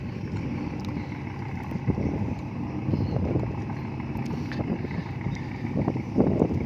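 A tugboat's engine chugs low and steady while it works a fishing boat into its berth on the Pattani River, with wind noise and faint knocks over the water.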